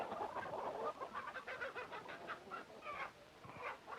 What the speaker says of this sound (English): the hen cackled because she just laid an egg